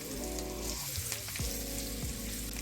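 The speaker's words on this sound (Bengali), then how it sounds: "আমি তেলের মধ্যে এই ডিমটাকে নেড়ে নিচ্ছি এবং এর সাথে অল্প একটু হলুদ দিয়ে দিয়েছি" Egg being stirred in hot oil with a little turmeric sizzles continuously in a pan, a close, even frying hiss with light stirring over a constant background tone.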